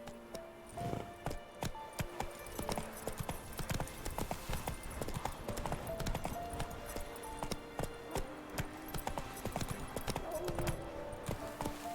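A horse's hooves clip-clop at a steady riding pace in The Witcher 3, with rapid, regular close strikes running continuously alongside game ambience and music tones, and no speech.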